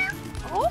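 Kitten meowing in a miniature doll scene, two short rising meows near the end over a soft background.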